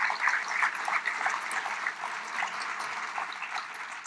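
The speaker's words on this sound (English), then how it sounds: "Please join me in giving them a warm round of applause for all of this." An audience at a lecture event claps in a soft, steady round of applause heard from a distance, fairly faint and without speech over it.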